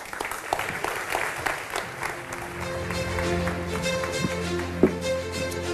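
Audience applause at a product launch event, scattered clapping in the first seconds that thins as sustained music swells underneath, with one sharp knock near the end.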